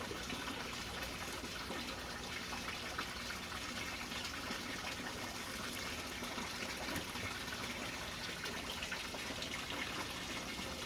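Water poured over newly planted hoya cuttings in soil, a steady, even gushing and spattering stream heard up close and uninterrupted for several seconds.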